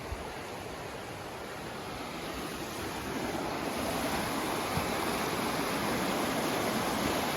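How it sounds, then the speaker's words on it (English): A clear river in Oaxaca rushes steadily in a broad, close, continuous wash of flowing water that grows slightly louder over the span, with no voices. "look at this river in Oaxaca, man. This is beautiful."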